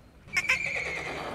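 A Falabella miniature horse neighs at feeding time, one short, shrill, quavering whinny that rises sharply and trails off, fairly close, with no talk.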